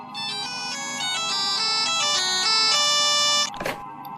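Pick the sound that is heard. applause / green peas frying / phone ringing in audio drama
phone ringing in audio drama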